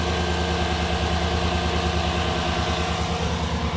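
A car air-conditioning compressor engages and runs, giving a steady, close mechanical hum with a low engine-like drone that holds evenly throughout.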